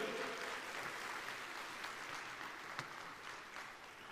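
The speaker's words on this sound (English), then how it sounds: "Yes, round of applause, ladies and gentlemen" Audience applause fills the hall at the Ace EV launch event, a steady, dense wash of clapping that holds evenly for about four seconds with no voices over it.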